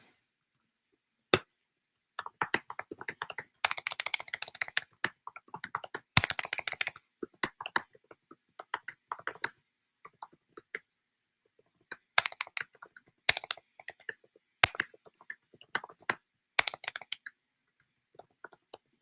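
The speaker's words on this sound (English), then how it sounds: "Y'all hear me typing my ass off." Bursts of rapid typing on a computer keyboard, close and crisp, with short pauses between flurries of clicking keys.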